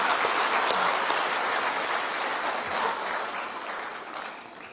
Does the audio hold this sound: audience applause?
yes